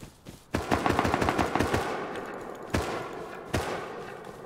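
Gunfire crackles through a chaotic video game airfield fight, with sharp rapid machine-gun bursts after a brief quiet opening and distinct loud shots punctuating a continuous noisy rattle.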